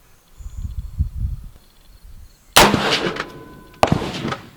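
A single rifle shot with Federal Match ammunition at a long-range shooting session, a sharp loud crack after a stretch of quiet low rumble, followed by a trailing echo and a second faint impact.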